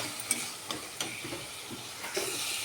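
Spice masala for aloo dum frying in a pan while being stirred, a quiet steady sizzle broken by light scraping taps of the spoon, heard up close with no talking.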